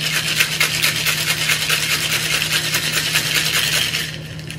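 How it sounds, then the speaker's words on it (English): Cocktail shaker with ice shaken vigorously, a continuous rattling, rubbing wash of ice against metal for about four seconds, close and loud, easing off at the end, with no talking. "Now I'm going to add ice. All right, shake vigorously now."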